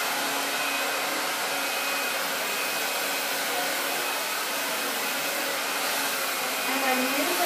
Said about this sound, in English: I'm going to use high heat so I can really kind of stretch out that wave and curl